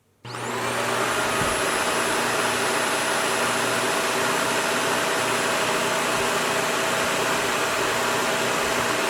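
A Shark vacuum cleaner switches on and runs with a loud, steady whine and rushing airflow that holds unchanged for several seconds, close by and with no talk over it.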